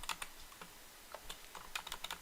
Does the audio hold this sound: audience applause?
no